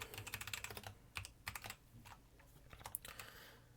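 Quick, light keystrokes on a computer keyboard while text is typed into a PowerPoint slide: close, rapid clicking in irregular bursts with brief pauses, no voices.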